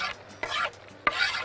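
Chicken liver with crushed garlic stirred in a hot pan, cooked with pomegranate molasses: two or three short, close scraping strokes over a steady sizzle.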